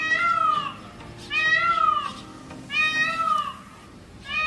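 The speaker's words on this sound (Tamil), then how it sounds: "பொதுவாக மயில்கள் பூனை மாதிரி மியாவுங்கிற சத்தத்தை எழுப்பும்." Indian peafowl giving a cat-like meow call three times in a row, each a drawn-out nasal wail with short pauses between, clear and fairly close against light background noise.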